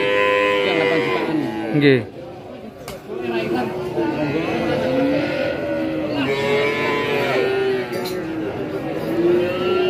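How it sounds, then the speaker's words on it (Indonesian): Limousin bulls moo at a busy cattle market in Tuban, drawn-out low calls rising and falling from several animals, some close and some farther off, with people talking in the background. "Jenisnya limosin jantan."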